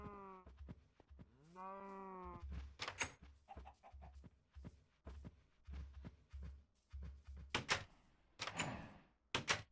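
Cows in the Minecraft video game give several drawn-out moos in quick succession near the start, followed by scattered clicks, thumps and short footstep-like knocks, with no talk.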